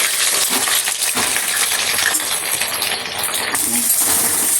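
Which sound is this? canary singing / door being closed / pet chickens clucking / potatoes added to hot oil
potatoes added to hot oil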